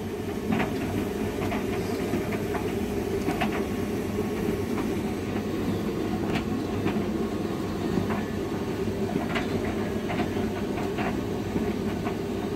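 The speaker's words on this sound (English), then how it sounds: "I'm going to do drying cycling my hotpoint vtd20 dryer today." A Hotpoint VTD20 tumble dryer runs a high-heat drying cycle with a steady low rumble and hum, with soft rhythmic tumbling knocks throughout, no talking.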